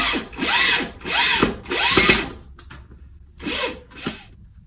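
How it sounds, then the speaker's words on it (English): A power drill runs in several short whirring bursts with brief pauses between, close and loud, the motor pitch rising and falling as it drives a screw while mounting a cordless cellular window shade. "so you can get it started with your drill"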